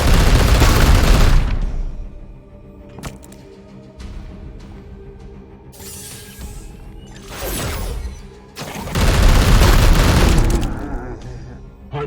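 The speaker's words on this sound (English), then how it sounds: "Firing on target." Heavy booming gunfire and explosive bursts from Warhammer 40K Chaos Gate Daemonhunters come in loud volleys separated by quieter stretches of game ambience and ringing tones.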